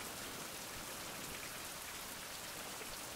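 Steady, dense rain hisses evenly throughout in the video game Survival: Fountain of Youth, a constant wash of drops on surfaces with no talking over it.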